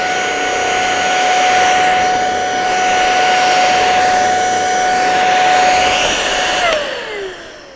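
Ultenic U20 cordless stick vacuum cleaner with its brush head running, a loud steady close whine and airy rush with a high motor tone that drops in pitch as it winds down at the end.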